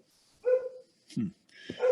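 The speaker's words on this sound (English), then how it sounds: "That's my dog in the background there" A pet dog in the background indoors gives three short, separated barks and yips with a whimpering edge, moderately loud against an otherwise quiet room.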